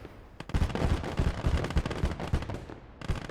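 A machine gun crew fires in the Gates of Hell game, with dense rattling automatic bursts close and loud, punctuated by sharper individual shots, in a winter battle setting.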